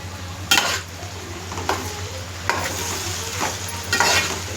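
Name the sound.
stirring curry frying in oil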